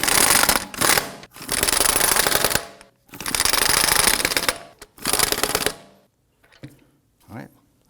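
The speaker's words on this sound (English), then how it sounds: "let's go ahead and snug these down gently" A hand ratchet or impact tool snugs down lug nuts on a 2003-2014 Volvo XC90 wheel: three loud, rapid clicking bursts close by, then a few faint clunks.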